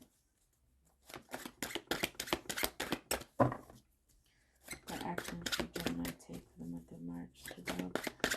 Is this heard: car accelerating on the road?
no